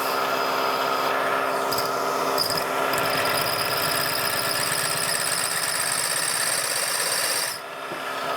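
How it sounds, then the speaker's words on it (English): A power drill grinds and whines steadily, boring a 5/16-inch hole into hard metal for several seconds, its high squealing tone holding constant before tapering off near the end. "Now we'll drill the hole."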